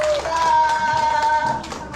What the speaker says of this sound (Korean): 큰 박수 맞이하시기 바랍니다.